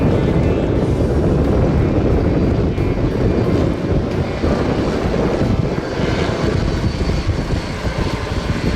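Helicopter making its final pass over an anchorage bay in the British Virgin Islands, a loud, steady rotor and engine roar that fills the whole stretch with no talk.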